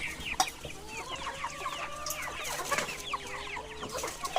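Pure native village chickens at a traditional backyard poultry farm cluck and chirp in a busy, overlapping chorus, with sharp short calls and quieter murmurs close by and no voices.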